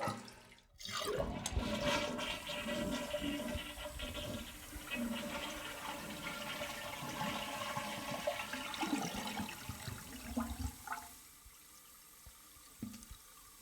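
A home toilet tank flushes with a sudden gurgling rush of water, then settles into a long swirling drain and refill that fades after several seconds to a quieter trickle, without speech.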